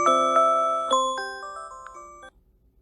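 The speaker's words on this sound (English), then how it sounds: "That was my alarm." A bright electronic chime melody plays alone, a run of clear tonal beeps stepping downward over about two seconds before stopping.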